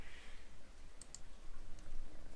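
A cat steps across a computer keyboard, producing a few faint, scattered key clicks over a quiet background hiss.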